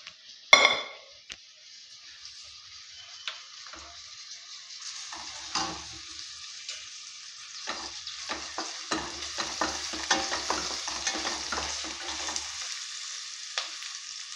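Sprouted horse gram is stirred and cooked in a pot for sambar, giving a soft steady sizzle broken by a sharp early clank and then frequent scraping and tapping of a spoon against the metal.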